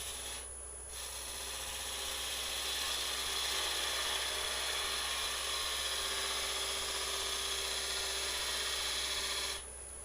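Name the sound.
gouge cutting a wooden Easter egg on a lathe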